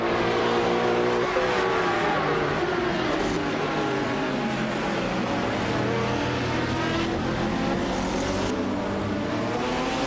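Race cars in a video game roar past, high-revving engines whining with rising and falling pitch as several cars battle closely, loud and continuous with gear shifts.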